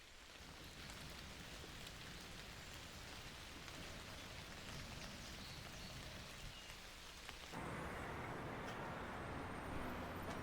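Steady rain falls in Hyde Park, London, a dense, even patter with low traffic rumble beneath, growing slightly louder and hissier partway through.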